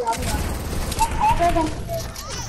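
Rapid SMG fire spammed in a desert-zone shooter video game, bursts of gunfire rattling continuously through the clip while players talk over it.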